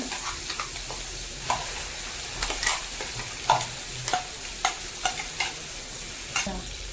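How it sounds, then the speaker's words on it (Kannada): Ground masala paste goes into a hot pan for a mango curry and is stirred, giving a soft sizzle under a string of rhythmic scraping strokes that come at a steady pace, close and clear, with no talking. "ಈಗ ಈ ಮಸಾಲೆ ರುಬ್ಬಿಟ್ಕೊಂಡಿರೋ ಮಸಾಲೆ ಹಾಕೋಣ."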